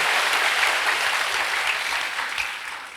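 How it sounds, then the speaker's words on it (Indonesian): A church congregation applauding, a dense steady wash of many hands clapping that holds loud throughout and tapers slightly at the end, with no speech. "Berikan tepuk tangan kita untuk Tuhan kita."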